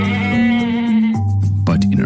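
A goat bleats in a long, wavering call that breaks into a second shorter bleat, loud and close, alone without talk.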